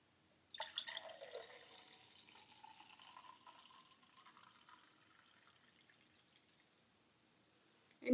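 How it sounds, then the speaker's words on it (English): Apple juice pours from a juicer pitcher in a soft, trickling stream that gradually thins out, quiet and close, then stops. "I wanna just pour the juice out for you."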